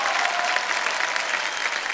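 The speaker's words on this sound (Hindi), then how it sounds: "तालियां बज जाए इनके लिए" The studio audience of the quiz show Kaun Banega Crorepati bursts into applause for a contestant's win. A brief, dense and steady roar of clapping fills the whole moment.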